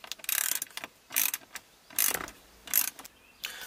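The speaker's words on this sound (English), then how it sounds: "which I will now undo now with my 7mm socket" A ratchet wrench with a 7mm socket backing out screws on the HVAC unit of a 1999–2004 Ford Mustang, with four bursts of rapid, close clicking separated by short pauses.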